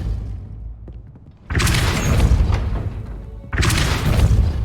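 Depulso force spell blasts in the video game Hogwarts Legacy: two loud, booming bursts, each hitting suddenly and roaring on for a couple of seconds.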